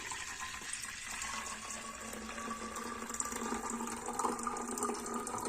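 Slaked lime mixture poured into a container for a Bordeaux mixture, giving a steady, splashing stream of liquid that stays even and moderately quiet throughout, with no voices.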